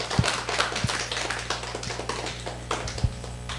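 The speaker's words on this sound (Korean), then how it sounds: "우리 박수 한번 칠까요?" A few scattered handclaps from a small church congregation during a Sunday service, sparse sharp claps with soft background noise rather than a full round of applause.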